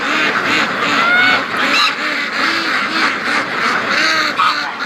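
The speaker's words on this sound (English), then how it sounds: "the duckies are going down to the swamp." A flock of ducks, many white, quacking steadily and loudly, calls overlapping in a busy, continuous chorus close by.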